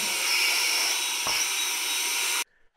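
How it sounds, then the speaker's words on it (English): A vacuum cleaner runs steadily at close range, cleaning up sanding and scraping debris from a floor before cabinet painting, a loud continuous whooshing drone that cuts off abruptly near the end. "I'm going to vacuum this real quick"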